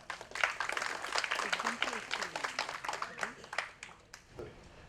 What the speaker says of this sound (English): Please have a round of applause for Team Pushmo.